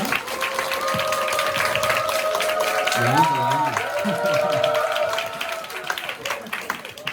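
A church youth congregation claps steadily to welcome the pastor at a Sunday service, with sustained tones and a few voices audible beneath the continuous applause.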